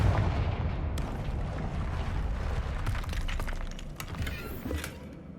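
Confringo fire-blast spell cast in the Hogwarts Legacy video game, a loud continuous roar of crackling, explosive rumble with sharp bursts layered on top, dense and close throughout.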